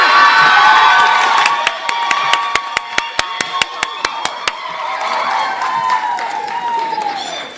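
An audience at a Bowie State University nursing pinning ceremony applauds and cheers loudly, with a dense wash of clapping, shouts and whoops, sharp rhythmic claps in the middle, and the noise tapering off toward the end.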